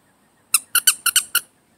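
A squeaker inside a fox plush pet toy squeezed six times in quick succession, each short, bright, close squeak rising sharply and fading, with silence before and after.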